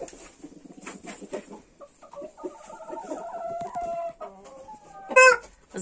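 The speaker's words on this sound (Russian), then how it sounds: "запасной петушок билефельдера." Spare Bielefelder rooster in a backyard coop, with a run of clucking calls and chatter building to a loud, sharp squawking burst near the end, fairly close.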